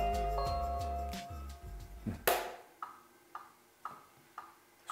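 Balmuda The Brew drip coffee maker brewing coffee: a short electronic melody gives way to a steady series of crisp, evenly spaced ticks, about two per second, close by and fairly quiet.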